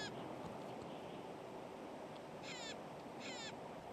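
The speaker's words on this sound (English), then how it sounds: "this intelligent member of the crow family, the Clark's nutcracker" Clark's nutcracker, a crow-family bird of evergreen forest, gives two harsh, grating calls at a distance, faint over a steady wash of wind or forest background.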